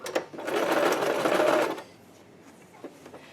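A sewing machine stitching a cosplay skirt onto its bodice, starting slowly and then rising into a fast, loud whir for about a second and a half before stopping, followed by a few faint clicks in a quiet room.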